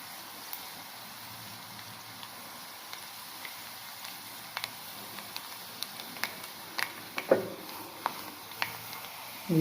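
Onions frying in a pan for home-style rasam, a soft steady sizzle with scattered faint crackles and pops growing a little busier toward the end, quiet and close with no talking.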